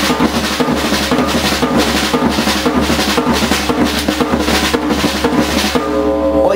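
Drum kit groove with tom-toms placed on the offbeat, a dense, loud and steady pattern of rapid strokes filling the whole stretch with no talking.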